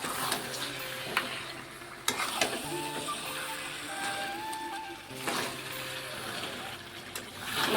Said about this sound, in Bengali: মশলা আমাদের ভালোভাবে কষা হয়ে গেছে, মশলা থেকে তেলও ছেড়ে গেছে। এবারে মাংসটা দিয়ে দিচ্ছি।